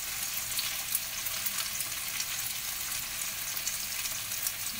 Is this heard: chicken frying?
yes